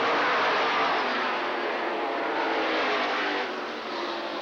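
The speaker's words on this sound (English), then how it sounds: "Heinrich now to the inside of Hedberg, trying to take over the lead in the 95 truck." Race trucks in a Mid American Truck Series event at LaCrosse Speedway, West Salem, Wisconsin, roaring around the oval in a dense, continuous engine drone heard from a distance, easing slightly near the end.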